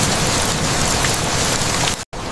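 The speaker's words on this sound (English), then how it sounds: "Rain falls gently, the forest breathing in silence." Heavy rain pours steadily in a forest, a dense, loud wash of drops on leaves and surfaces that cuts off abruptly near the end.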